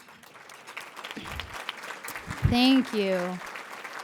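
An audience at a benefit dinner applauds its board members with a moderate clapping wash, while a voice speaks briefly over it near the end.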